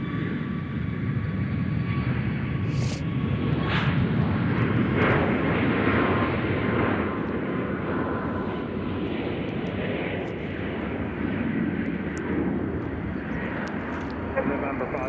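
Southwest airliner passing at Nashville International Airport, a broad steady jet roar that holds loud throughout, with a person talking over it.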